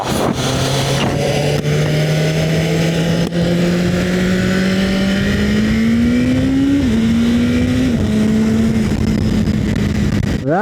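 A new 2026 BMW pulls away and accelerates steadily, its engine tone climbing through the gears with a brief shift dip, loud and continuous from inside the cabin.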